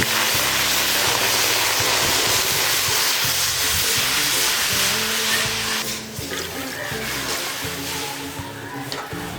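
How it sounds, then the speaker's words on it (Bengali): Water heats in a wok on the stove for a Bengali kalai dal with prawns, giving a steady loud hiss and sizzle that runs throughout with a slight dip near the end. "এবারে কড়াইয়ে দিয়ে দেবো পরিমাণ মতো জল"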